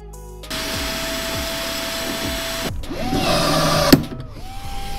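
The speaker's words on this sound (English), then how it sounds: "I'm going to drill these two on the chest cam" Power drill driving screws while securing a front deck on a jon boat to bass boat conversion: a steady motor whine runs in two long bursts, then a shorter, louder burst ends with a sharp click, with no talking.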